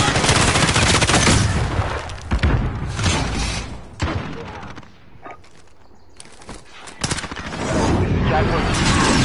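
Video game gunfire and explosions in a military combat scene with cruise missiles, heavy and continuous bursts of shooting and booms that dip briefly mid-clip before resuming loudly, with game radio voices talking over it.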